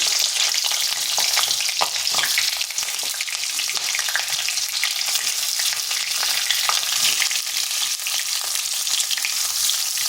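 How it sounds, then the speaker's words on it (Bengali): Diced cauliflower pieces fry in hot oil, giving a loud, dense, continuous sizzle and crackle close up, with faint stirring and no voices. "এখানে তেল গরম হয়ে গেছে, এরপর ফুলকপিগুলো আমি একটু ভেজে নেব।"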